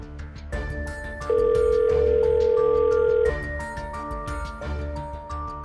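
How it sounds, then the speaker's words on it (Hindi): A telephone call to an officer rings through a sustained tone with a steady held pitch that starts partway in and runs about two seconds. Music plays in the background throughout, and no one speaks over it. "फोन लगाकर देखता हूँ"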